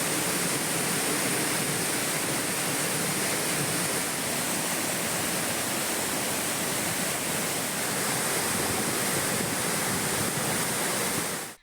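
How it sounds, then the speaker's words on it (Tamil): Courtallam waterfalls in the Western Ghats roaring with heavy flow after continuous rain, a dense, unbroken rush of water that stays loud and steady throughout, no voices. "மேற்கு தொடர்ச்சி மலைப்பகுதிகளில் பெய்து வரும் தொடர் மழை காரணமாக குற்றால அருவிகளில் தண்ணீர் வரத்து அதிகரித்துள்ளது."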